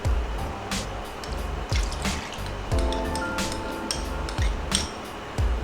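Cornstarch and water are poured into a pan of sweet and sour sauce made with vinegar, soy sauce and ketchup, giving close, wet drips and splashes with a few knocks of the container, repeating roughly every second.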